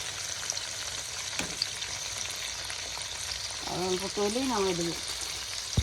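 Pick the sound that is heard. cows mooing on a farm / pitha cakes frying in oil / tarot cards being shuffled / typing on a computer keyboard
pitha cakes frying in oil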